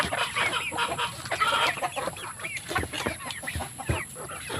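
Chickens clucking at a backyard coop alongside ducks and turkeys, a busy overlapping chorus of close, sharp clucks and squawks with no talk.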